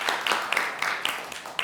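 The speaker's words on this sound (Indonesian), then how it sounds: "kita berikan tepuk tangan untuk kalian semua" An audience in a classroom claps for students, with a quick run of sharp claps that sounds light and close.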